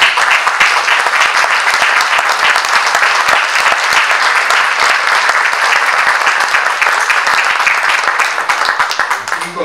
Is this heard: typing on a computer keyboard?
no